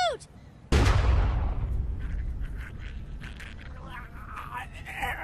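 A single sharp, booming gunshot goes off in The Walking Dead Season 2 PC game, close and loud, then trails into a long decaying echo with faint ambient noise after.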